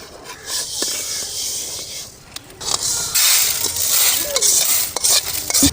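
Sesame seeds roast in a pan while being stirred, with scraping of the utensil, light clinks against the metal and a soft dry hiss, close and fairly loud throughout.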